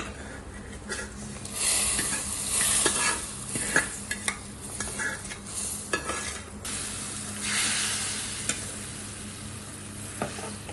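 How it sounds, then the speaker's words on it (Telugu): Tempering sizzles and fries in a pot of rasam while a spoon stirs it, a steady crackling hiss close by with clinking stirring strokes and brief scrapes. "మంచి రసంలో తాలింపు పెట్టి వేసేస్తున్నారు"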